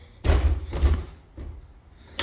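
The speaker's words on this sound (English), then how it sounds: "I'm just trying to close this door." A door in a period building needing total renovation is closed with two loud, close thuds, followed by a softer knock and a final bump.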